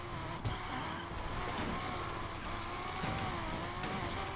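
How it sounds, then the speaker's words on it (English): Mitsubishi Evo X drifting through a corner in the Need for Speed Unbound video game, a steady loud engine drone with tire squeal running continuously throughout, no talking. "Another really nice drift going around that corner."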